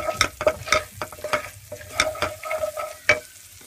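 Cauliflower being stirred with turmeric and garam masala in a pan, repeated close scraping strokes of a spoon over a soft sizzle in an uneven rhythm.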